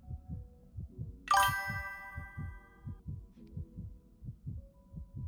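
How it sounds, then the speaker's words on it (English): A slow, steady heartbeat thumps throughout in Honkai: Star Rail, low and regular, with a bright chiming ding ringing out briefly near the start and fading over the pulse. "Do you hear the heartbeat?"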